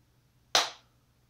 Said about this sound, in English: every time I clap my hands